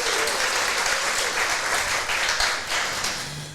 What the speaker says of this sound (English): Guys, can we give a round of applause?